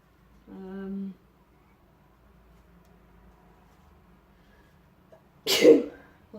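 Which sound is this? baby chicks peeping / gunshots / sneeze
sneeze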